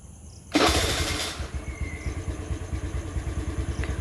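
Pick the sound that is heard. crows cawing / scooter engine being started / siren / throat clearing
scooter engine being started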